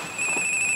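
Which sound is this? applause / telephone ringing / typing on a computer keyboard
telephone ringing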